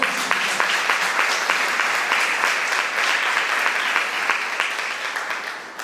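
A church congregation applauds the Lord at a Saturday night service, a dense, steady wash of many hands clapping at once, loud and sustained, thinning slightly toward the end.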